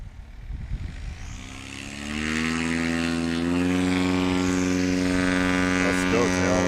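An experimental 175 light plane powers up for a STOL competition practice takeoff at Ontario Municipal Airport, Oregon, its propeller engine droning loud and close and rising steadily in pitch as it accelerates, after a short stretch of lower idle noise.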